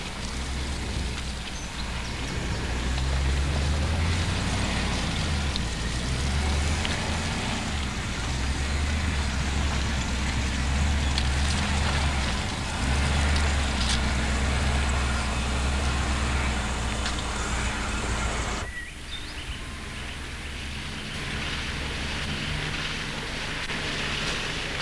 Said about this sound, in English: Through this muddy, rutted section, he's using second gear again, keeping out of the ruts with sufficient momentum to keep going.